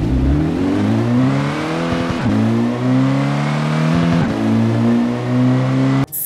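A Fiat Egea's engine revs repeatedly in the Car Parking Multiplayer mobile game. Loud, close rising and falling whines are broken by brief gear-change dips, with no talk over them.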